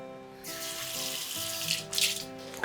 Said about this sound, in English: You want to start off by gently washing the pan with a soft sponge and gentle soap.